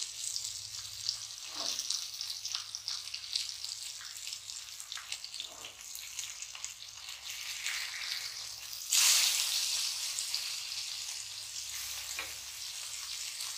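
Pomfret fish coated in green thoothuvalai paste fries in a pan, giving a steady close sizzle with a louder, brighter burst of spitting about two-thirds through, with no talking.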